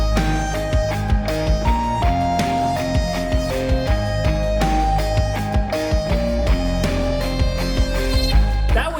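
A song, a dense rock mix with heavy distorted guitars and a bright synth line weaving over steady drums, loud and continuous throughout.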